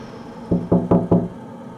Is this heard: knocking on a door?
yes